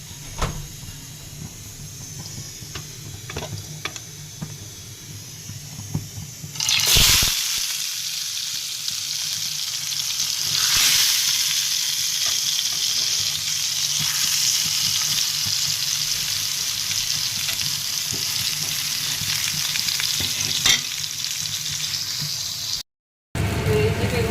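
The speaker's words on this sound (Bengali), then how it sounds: "আমি কম তেল দিয়ে বেগুন ভাজার চেষ্টা করতেছি" Eggplant slices coated in salt, turmeric and dried chili fry in hot oil, a constant close sizzle and hiss that flares louder when food is moved, continuing for a long stretch with little talk.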